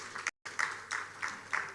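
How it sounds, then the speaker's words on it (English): An audience at a housing show applauds a speaker being introduced, with fairly faint, moderately distant clapping in uneven swells and a short silent gap near the start. "A round of applause for him."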